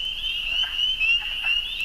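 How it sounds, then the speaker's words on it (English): A wood frog calls in a spring pond, a steady harsh, grating croak that holds continuously and fairly close, alone without any voices. "I hear a wood frog, though, beginning in there."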